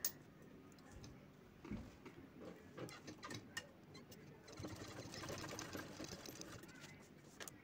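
A sewing machine stitching fabric for a wall hanging organizer: faint, quick ticking needle strokes in short runs, starting and stopping, with a longer steady burst near the end; quiet and close.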